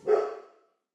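A dog barks once, a single short, fairly close bark that fades out within about half a second, with no one talking over it.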